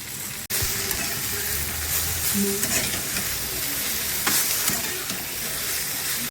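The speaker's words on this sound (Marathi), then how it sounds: "मस्त तेलामध्ये भाजून घ्यायची तळून घ्यायची" Okra fries in oil in a pan, a dense, continuous close sizzle with occasional stirring scrapes and clicks, fairly loud and without speech.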